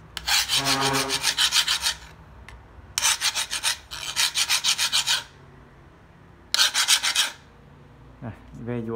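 A metal file rasps in repeated bursts of quick back-and-forth strokes, loud and close, separated by short pauses.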